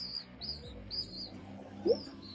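Faint bird chirps and short tweets repeat over a quiet background, with one slightly louder call near the end.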